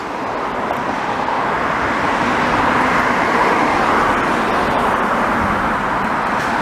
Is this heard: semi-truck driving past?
yes